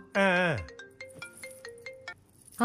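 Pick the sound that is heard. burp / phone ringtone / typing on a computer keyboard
phone ringtone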